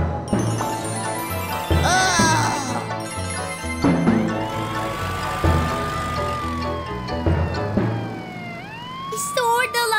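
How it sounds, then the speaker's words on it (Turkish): A siren for a very fast cartoon police car, its rising and falling wails heard loud and close beside a busy musical score and sound effects in a children's animated show. "Morpho, çok hızlı bir polis arabasına dönüş"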